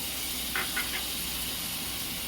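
A spoonful of garlic hits onions frying to golden in a pan for a quick potato curry, giving a steady, close sizzling hiss with a few faint soft pops near the start.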